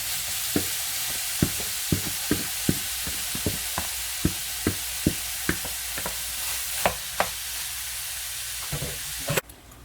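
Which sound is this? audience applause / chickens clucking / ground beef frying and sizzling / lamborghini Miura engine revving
ground beef frying and sizzling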